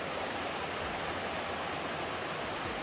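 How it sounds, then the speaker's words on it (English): A creek flows beside a woodland Appalachian hiking trail near Low Gap, Tennessee, a constant broad rushing of water heard close and steady with no voices. "I'm following this pretty creek alongside the trail."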